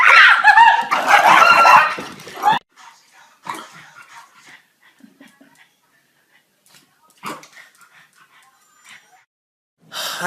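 A pet dog whimpers and yips in a few short bursts, loud at first and then fainter, with quiet gaps between the cries.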